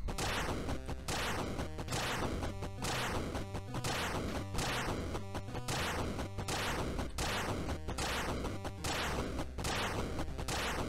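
Objects smash in quick succession in the video game If You Move You Die, a loud, dense run of crashes and whacks repeating at a fast, regular beat for several seconds.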